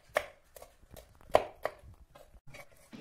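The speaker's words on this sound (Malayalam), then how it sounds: "ഇനി ഇതൊക്കെ നമുക്ക് കട്ട് ചെയ്തെടുക്കാം. ഇലകൾ കട്ട് ചെയ്തു." A knife chops leafy greens for a homemade thoran on a board, giving sharp, scattered taps at an uneven pace, some louder than others, with quiet gaps between them.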